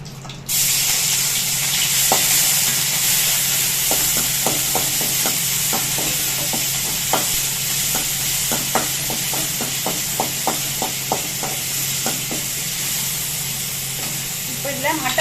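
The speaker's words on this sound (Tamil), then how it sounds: "இப்போ இஞ்சி பூண்டு விழுது சேர்க்குறேன்." Ginger-garlic paste sautés in a little oil in a pan, giving a continuous loud sizzle with quick scraping strokes of a spatula. A voice is faintly audible underneath.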